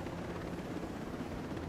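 A helicopter in Ghost Recon Breakpoint flies with a steady, dense rotor and engine roar, a constant broadband whoosh close around the listener with no talking.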